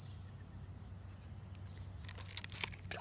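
Crickets chirp outdoors in short, evenly spaced pulses, faint and steady, joined near the end by a few denser rustling clicks.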